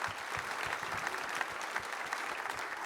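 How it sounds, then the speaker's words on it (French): Audience applause for a British sailor at the official presentation of Golden Globe Race skippers, a dense wash of clapping that stays steady and fairly distant throughout. "Applaudissements pour le plus français des marins britanniques."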